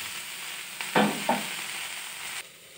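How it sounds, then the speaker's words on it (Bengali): Soybean bori and eggplant frying in oil, a steady low sizzle with a couple of brief louder stir or scrape bursts near the middle, then settling back to a quiet hiss. "সয়াবিন বড়ি আর বেগুনটা লাল লাল করে ভাজা হয়ে গেছে"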